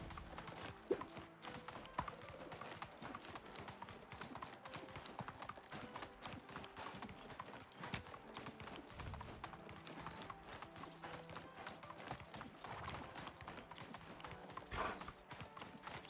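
A donkey's hooves clip-clop steadily in the Medieval Dynasty video game, a quick, regular stream of close hoofbeats running throughout over a faint low ambient bed.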